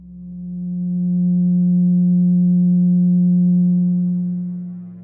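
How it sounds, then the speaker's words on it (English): A pure steady 180 Hz sine tone representing a triangle's 180 degrees, swelling in, holding loud and even for several seconds, then fading, alone with no voices. "let's listen to what the 180 total degrees contained in a triangle sound like"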